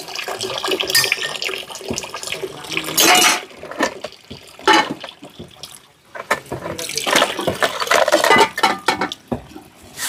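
Tap water splashes as fruit and garlic are washed, with dishes clattering, a bowl knocked about and water stirred, in busy bursts that swell and fall close by.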